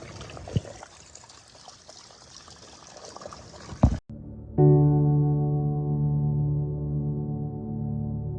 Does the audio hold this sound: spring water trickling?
yes